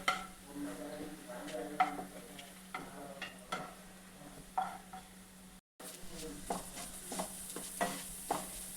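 Browning onions frying in a pan give a soft sizzle under close, repeated scraping stirs, with one brief break in the sound.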